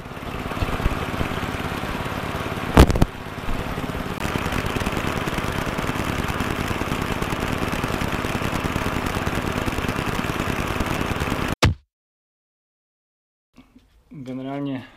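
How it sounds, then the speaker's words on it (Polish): A BMW E46 engine idles with a steady, puttering chug from a hole in the exhaust for several seconds, then cuts off abruptly, followed by silence and a brief bit of speech. "Jest takie pyrkanie dochodzące do góry z grilla"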